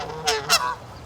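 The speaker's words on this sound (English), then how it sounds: "The geese are freaking out." Geese honk in two quick, loud nasal blasts close by, followed by a fainter trailing call.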